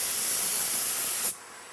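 A steady hiss of a spray gun misting a wood finish, then it cuts off abruptly near the end, leaving a faint quiet tail.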